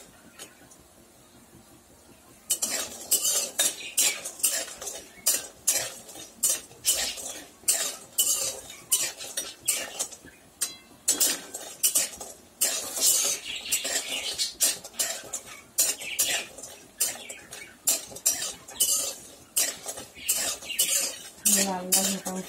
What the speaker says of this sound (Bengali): প্রথমে বড়িগুলোকে লাল লাল করে ভেজে নিচ্ছি।